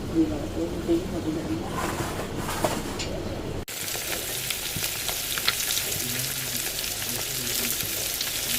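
Pieces of fish belly frying in oil, a steady continuous sizzle that grows brighter and louder partway through, with a voice talking over it at first.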